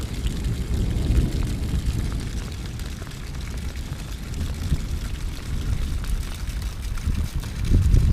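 A small stream of rainwater trickles and gurgles at a street drain with its grate removed in Vynohradar, Kyiv, giving a continuous low, murmuring flow with rain noise around it.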